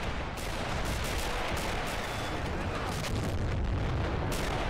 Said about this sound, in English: Big explosion in the middle.